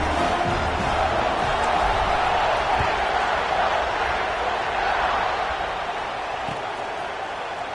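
Football stadium crowd before kickoff in an Ohio State game: a loud, continuous roar of cheering from a large crowd, easing slightly toward the end.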